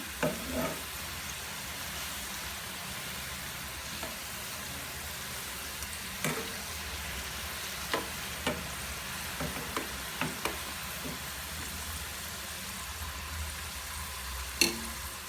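Samosa pockets bubble and sizzle steadily in hot frying oil, a constant close crackle broken by occasional clicks and knocks as they are turned.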